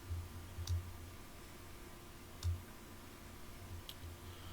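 Three sharp, faint computer mouse clicks come about two seconds apart, each a brief tick over quiet background hum.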